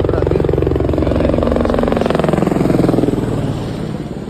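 A loud, steady rhythmic engine thrum with a fast pulsing beat from a helicopter close by near Baltal, continuing without pause.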